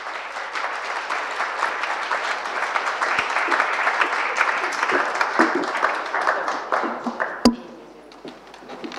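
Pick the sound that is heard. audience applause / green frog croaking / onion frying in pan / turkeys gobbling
audience applause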